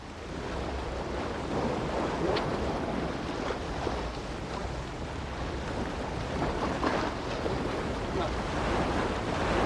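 Steady broadband rush of surf and gusting wind on a sea shore where surfcasting is underway, continuous and fairly loud throughout with no break or speech.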